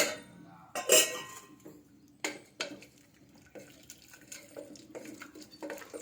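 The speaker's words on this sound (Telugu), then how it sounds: "మనకి ఎంత వాటర్ కావాలో అంత వేసుకోవాలండి దీంట్లోకి" Water poured into a pot of tomato pulusu, quiet splashing and trickling in uneven bursts with occasional clinks of a utensil against the pot, close by, no voices.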